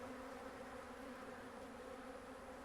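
Faint, steady drone of many bees buzzing together, a continuous hum with no talking.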